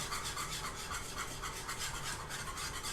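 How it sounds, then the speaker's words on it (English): A whisk scrapes steadily through a thick, custard-like mixture in a pan over high heat, producing a continuous close rasping rhythm with regular strokes and no talking. "The whisk is actually leaving lines in the surface."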